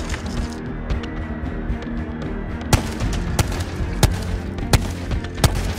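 Gunfire from the video game Ghost of Tabor sounds as a series of sharp, loud cracks, first a few scattered shots and then single reports about every half second over a rumbling background.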